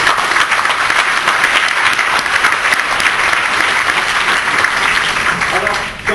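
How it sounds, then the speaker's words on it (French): A hall audience at a Senate event applauds in a loud, dense, continuous burst of many hands that tapers off slightly just before the end. "Et que je vous demande d'applaudir"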